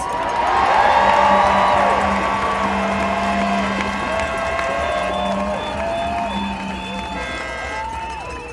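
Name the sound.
crowd cheering and applauding at a rally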